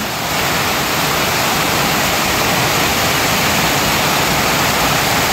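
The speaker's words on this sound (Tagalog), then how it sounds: "Ang lakas ng bagsak ng ulan na naman ngayon." Torrential rain falls hard in Luzon under a Signal No. 1 storm, a loud, unbroken roar of water close by that holds steady from start to finish.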